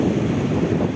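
Sea waves splash and churn under strong wind buffeting the microphone, a loud, close, continuous roar of surf with no voices.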